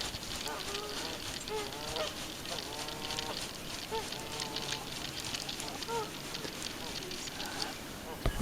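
Geese honk repeatedly in overlapping calls, fairly close, over steady outdoor wind noise.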